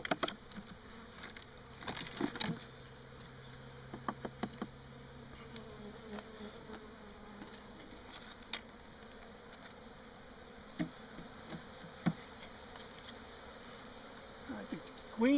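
Honeybees buzz around and inside a hive box being handled, a faint, continuous hum with scattered soft knocks and taps nearby.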